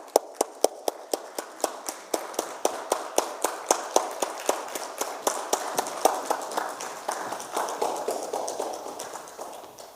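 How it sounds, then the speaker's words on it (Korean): A church congregation at a Wednesday evening dedication service claps to welcome a visiting pastor, steady rhythmic applause with sharp evenly spaced claps that thicken and blur slightly toward the end. "나오실 때 우리 뜨거운 박수로 맞이하겠습니다"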